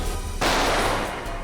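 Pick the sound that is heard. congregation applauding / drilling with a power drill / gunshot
gunshot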